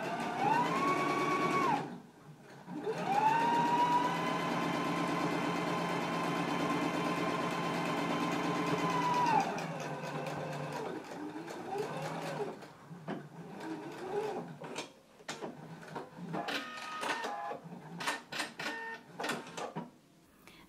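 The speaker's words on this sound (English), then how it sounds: "I'm gonna top stitch right along this inner edge" Sewing machine top stitching along the inner pressed edge of a pants pocket, a close whirring motor in a short burst and then a long steady run of about seven seconds, followed by clicks and fabric handling.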